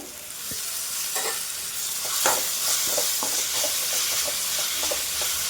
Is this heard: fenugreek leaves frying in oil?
yes